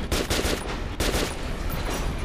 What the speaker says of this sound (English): Can't stop this AK, it's the greatest.